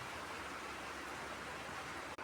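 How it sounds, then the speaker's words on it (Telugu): Rain falls steadily outdoors during pleasant rainy weather, an unbroken broadband patter at an even, moderate level, heard alone for a couple of seconds before a brief dropout near the end. "ఇదిగోండి మంచిగా వర్షం పడుతుంది మా దగ్గరనైతే."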